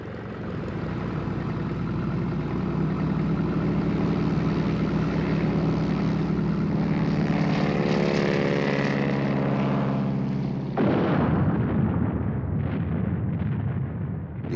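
Wartime Fleet Air Arm Fairey Swordfish torpedo aircraft launched from the carrier Illustrious roar with loud, continuous propeller-engine drone, then a sudden blast-like shift to rumbling noise.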